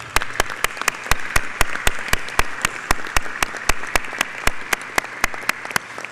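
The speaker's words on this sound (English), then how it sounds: "Big round of applause." Hands clap in a fast, steady rhythm at an airline pilots' union board meeting, crisp and close, each clap evenly spaced over a low background hum.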